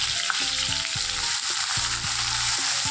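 Chopped onion sizzling steadily in hot oil for a cauliflower fried rice, with a close, continuous frying hiss broken by a few stirring scrapes of a spoon against the pan.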